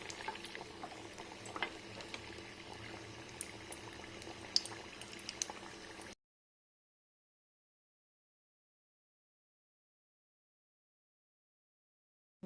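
Paneer and sweet corn cutlets fry in hot oil with a steady, close bubbling sizzle for about six seconds, followed by silence.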